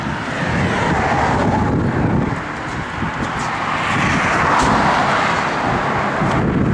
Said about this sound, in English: It's that wind, Jordy. There's nothing you're going to be able to do.